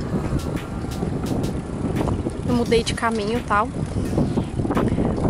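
Wind buffets the microphone of someone walking home outdoors, a low rumbling roar through the whole clip while someone talks over it.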